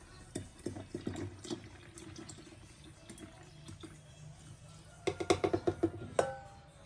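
Evaporated milk is poured for making ice candy, giving soft liquid trickling with scattered clicks and knocks of containers, growing into sharper clattering taps toward the end.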